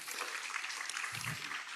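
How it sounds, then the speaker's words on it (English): Audience applause at an academic conference session, a steady wash of clapping from a crowd lasting under two seconds, fairly quiet and even throughout. "Please give applause."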